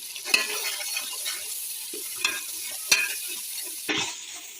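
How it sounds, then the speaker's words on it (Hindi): Masala of tomato and green chillies sautéing in a pan for moong dal: a steady close sizzle with four or five sharper spoon scrapes and clacks against the pan, no talk. "इनको अच्छे से भूनूंगी"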